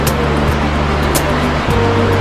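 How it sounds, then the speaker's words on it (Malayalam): The Lidder River, a Himalayan river flowing strongly, gives a loud continuous rushing roar of fast water close by with no pause. "ഹിമാലയൻ നദികളിൽ വെള്ളം കുറവാണെങ്കിലും വളരെ ശക്തിയായിട്ടാണ് ഒഴുകുന്നത്."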